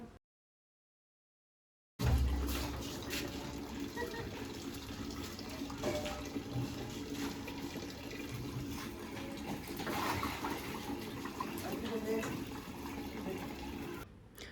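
Water runs from an outdoor tap into buckets, a steady broadband rush that continues evenly for about twelve seconds after a short silent start.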